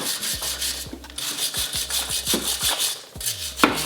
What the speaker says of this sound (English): if you have a wire brush, run it through those threads on the